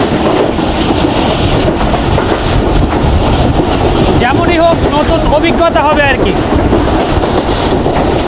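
A passenger train runs from Islamabad toward Multan in Pakistan with a loud, steady rattle and rhythmic clickety-clack of the wheels, plus rushing wind noise, while someone talks over it.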